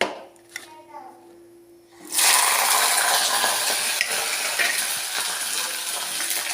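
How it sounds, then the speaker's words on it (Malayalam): After a quiet start with soft child's chatter, a sudden loud sizzling burst erupts as wet chili peppers hit hot coconut oil, continuing as a steady, crackling spatter of frying. "എണ്ണ ചൂടായിട്ടുണ്ട് അതിലേക്ക് മുളക് ഇട്ട് കൊടുക്കാം"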